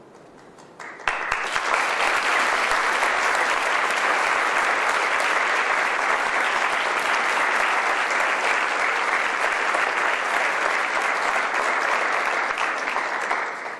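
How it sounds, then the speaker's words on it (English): Sustained, loud audience applause fills a room at the Women of Courage Awards, a dense roar of many hands starting abruptly and holding steady for over ten seconds. "Please, another round of applause."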